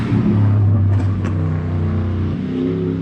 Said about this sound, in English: these guys are flying down the street